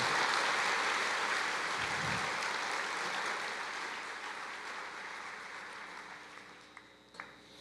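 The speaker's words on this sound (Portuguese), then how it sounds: "Você pode aplaudir o Senhor?" A church congregation claps together in praise, a broad wash of applause that starts full and slowly fades, with a few louder individual claps near the end.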